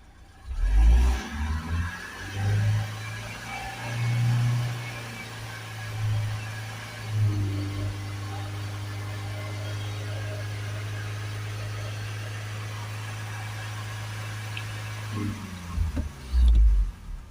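A Fiat Talento 2.0 dCi diesel van with a particulate filter low-efficiency fault settles into a steady, low engine idle hum after some revving, with someone talking over the early part.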